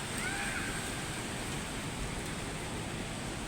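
Typhoon Kristine lashing Ortigas, Manila with heavy rain and strong wind, a steady dense rushing roar that holds evenly without pause.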